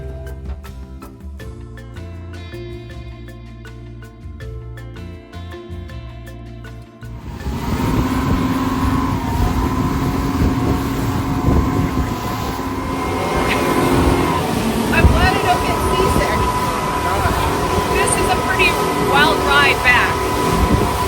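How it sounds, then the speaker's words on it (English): Motorboat engines drone and rumble loudly around a crowded reef lagoon at the Phi Phi Islands in Thailand, a continuous churning roar that swells after a quieter, tonal opening. "There's a lot of boats here."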